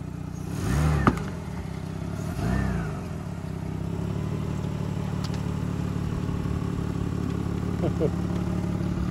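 Mitsubishi 4x4 engine running as the vehicle creeps forward, a steady low rumble with a couple of brief revs and clatters near the start, heard fairly close throughout.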